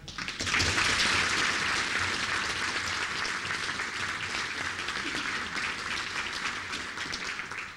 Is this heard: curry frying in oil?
no